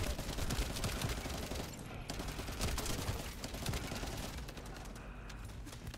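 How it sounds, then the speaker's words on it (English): Dense, continuous rapid gunfire from a video game weapon, loud and relentless with rattling bursts throughout and a faint voice underneath. "I'm shooting up on my fucking gun"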